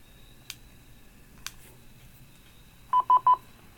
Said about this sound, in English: when we key up, we should hear the repeater